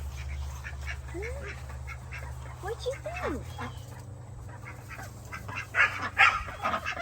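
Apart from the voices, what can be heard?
ducks quacking on a farm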